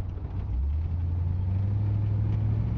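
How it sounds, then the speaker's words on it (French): A 1971 Corvette Stingray engine hums steadily with a low, smooth drone, rising slightly in pitch as it accelerates through an automatic gearbox, heard from inside the car. "La voiture monte bien, monte dans les tours, accélère bien"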